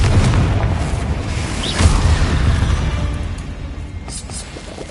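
A deep, booming blast from the Confringo spell in Hogwarts Legacy, mixed among dense game effects, with the rumble fading gradually over several seconds.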